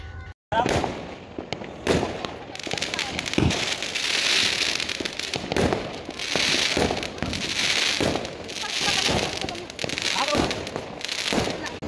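Firecrackers burst in rapid, irregular crackling volleys during a Diwali celebration at a new home, loud and close, with sharp pops scattered throughout amid a constant hiss of burning fuses.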